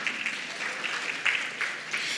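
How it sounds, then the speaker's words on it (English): Audience at a dental research symposium in Indonesia applauding a Faculty of Dentistry team, a soft, fairly distant patter of clapping sustained through the moment. "please give applause for Tristic, Faculty of Dentistry, Universitas Indonesia"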